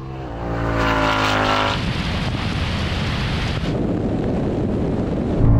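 A BMW 3.0 CSL accelerates hard in a drag race against a Ford Mustang V8, its engine revving loudly and climbing in pitch before a gear shift, then continuing as a rough, steady roar mixed with heavy wind noise.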